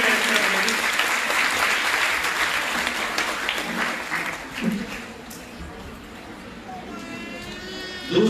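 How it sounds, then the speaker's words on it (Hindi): Hall audience at a women's charity event in Aurangabad clapping loudly and continuously, the dense applause gradually thinning toward the end while voices and an amplified announcer sound faintly underneath. "जोरदार तालियां बजाइए"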